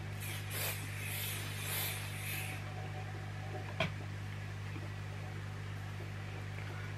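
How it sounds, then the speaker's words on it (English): Spray hiss from an aerosol hairspray can in short bursts, fairly close, over a steady background hum, fading out partway through. "So I'm going to re-spray my hair, but like as a whole head"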